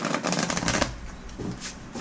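Oracle cards being shuffled by hand during a reading, a series of quick papery riffles and soft slaps in close, uneven bursts, with a brief pause before a few more shuffles.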